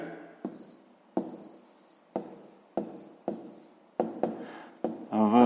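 Pen writing on paper for a sixth-grade maths exercise: repeated short scratchy strokes in bursts, close and fairly loud, with a brief voice at the very end.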